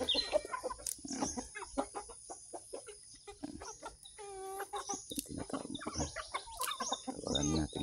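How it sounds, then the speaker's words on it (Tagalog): A flock of chickens clucks continuously nearby, with scattered squawks and a rising cackle in the middle, while a person talks over them. "Ang kalupit yung mga manok natin ito mga idol."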